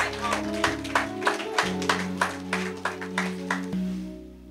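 A church congregation claps in a steady, even rhythm along with music, each clap sharp and distinct, until the clapping stops near the end.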